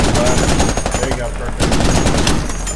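Mounted machine gun on a HMMWV firing in a video game set in Al Basrah, sustained rapid-fire bursts rattling loud and close, with brief talk underneath.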